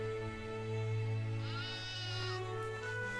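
A cartoon sheep bleats in an animated Bible story about the lost sheep, its wavering cry rising clearly over a sustained musical backing midway through.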